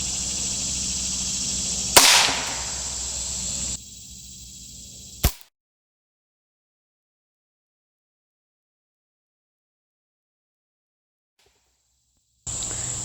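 A single sharp report from a .22 LR rifle firing a Winchester Silvertip round at a clay target outdoors, a near crack with a brief decay over steady insect-like background hiss, followed by silence.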